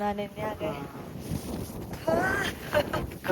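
Gusty wind buffets the microphone on a cold, foggy hilltop viewpoint at Panchalimedu, Kerala, a low rumbling roar under a person speaking nearby.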